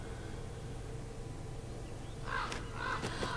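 A crow caws twice in the animated show RWBY, a pair of short harsh calls rising out of a quiet low hum, moderately close.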